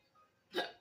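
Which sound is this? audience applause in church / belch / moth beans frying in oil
belch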